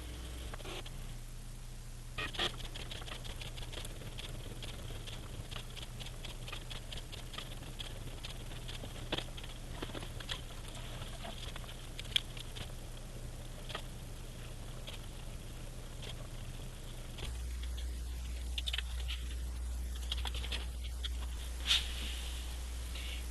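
Cricut cutting machine with a standard deep cut blade slicing wood veneer, a faint steady hum under soft irregular ticking and tapping, the motor tone shifting lower near the end.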